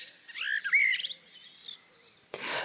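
A common blackbird sings a short phrase of low, strained warbling notes, close and clear, followed by a brief higher chattering burst at the end.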